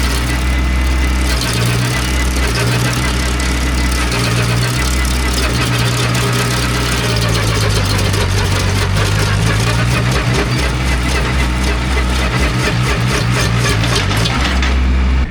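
A MECHMAXX SG24 PTO stump grinder runs on a tractor, chewing into a stump among exposed roots. A loud, constant engine drone dips and strains in pitch as the cutter bites in, hopping and jerking when plunged straight down.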